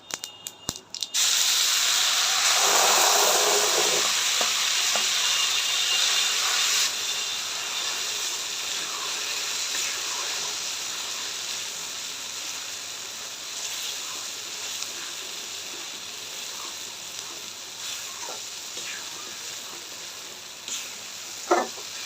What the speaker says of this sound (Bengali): তেলটা আমার গরম হয়ে গেছে, এবার আমি আমগুলা দিয়ে দেবো।